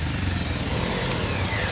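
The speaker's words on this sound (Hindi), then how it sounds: "आज हम बाइक पे चल रहे हैं" A motorcycle engine drones steadily and close while the bike is ridden, a continuous rough rumble mixed with road and wind noise.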